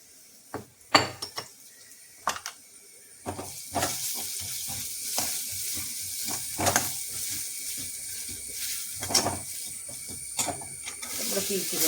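Chili powder frying in oil in a pan and being stirred, with a steady close sizzle and sharp scraping clicks of the spoon throughout.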